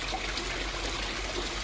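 Water flows back into an aquaponics grow bed holding fish, a steady broadband trickle and rush, close and continuous with no voices.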